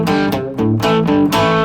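An electric guitar lick in a blues vein, mixing fretted notes with ringing open strings, played loud and close in several quick plucked phrases with no talking.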